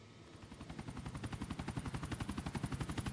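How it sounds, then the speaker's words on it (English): Rapid automatic gunfire in Grand Theft Auto 4: a fast, steady stream of shots, fairly distant and moderately loud, running continuously with no voices. "Who the fuck is shooting like crazy"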